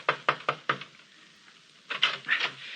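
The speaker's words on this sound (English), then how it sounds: "Then you pray there's still someone in the copy room as you pound on the door." Heavy fist pounding on a door, a radio drama sound effect: four quick loud knocks, a short pause, then another burst of rapid thuds, close and alone.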